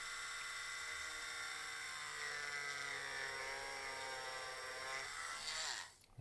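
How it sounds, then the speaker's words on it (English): A small rotary drill bores holes into an S.H. MonsterArts Gigan action figure, a continuous high-pitched whine running steadily for about six seconds before spinning down abruptly. "So that's not our final drilling"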